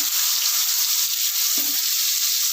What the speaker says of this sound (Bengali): কেটে রাখা উচ্ছেগুলোকে আমি একটু হালকা ফ্রাই করে নেব।